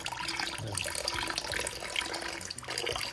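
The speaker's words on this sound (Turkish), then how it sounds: "Şimdi akvaryumcudan aldığımız suyla bizim akvaryumumuzdaki suyu yavaş yavaş birleştiriyoruz." Water from an aquarium shop is poured slowly into a home aquarium holding angelfish, giving a steady close trickle and splash that runs through the whole stretch, with no talking.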